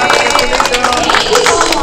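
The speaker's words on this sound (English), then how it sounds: "Okay, a round of applause, please." A crowd applauds just after the ribbon is cut at a school turnover ceremony for Pershing Tan Queto Sr. Elementary School. Dense, steady clapping and cheering fills the whole stretch, loud and close, with voices mixed in.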